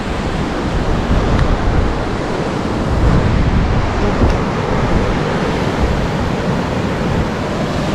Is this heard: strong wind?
yes